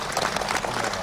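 Crowd applause at Nawaz Sharif's speech in Chitral, a steady dense wash of clapping from many hands, moderately loud, with no pauses.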